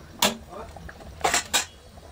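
A spoon scrapes and clinks in a pot of ita fish curry being stirred, three short bright clatters with quiet gaps between, close by, with no talking.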